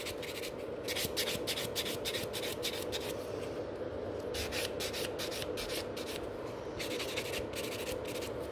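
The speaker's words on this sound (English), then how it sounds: "I'm still filing quite quick, and I'm not going too close to the cuticle area." Nail file rubbing quickly back and forth across fingernails during a manicure, a steady raspy scratching in short repeated bursts, close and clear with no talking.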